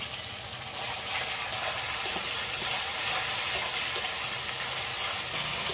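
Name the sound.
water from rinsed spice bowl poured into sizzling chicken masala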